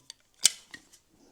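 A grafting knife slices into pawpaw scion wood, giving a few sharp, close snicks and scraping strokes: one quick click, a louder main cut, then two softer follow-up strokes in a quiet room.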